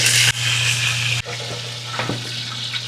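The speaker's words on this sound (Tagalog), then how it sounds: "Side lang tayo dito ng oil. Fry lang natin yung chicken." Chicken pieces frying in hot oil for lemon pepper chicken, a loud close bright sizzle throughout with a couple of sharper crackles and a low steady hum beneath.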